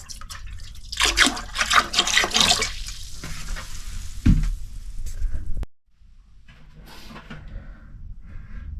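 Water drains and trickles into a static caravan's toilet cistern and bowl, with close dripping and splashing that swells into a louder gush, stops abruptly, then gives way to a softer, steady trickle.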